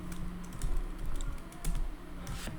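Computer keyboard being typed on, a quick run of soft, close key clicks with irregular rhythm, quiet and with no talking.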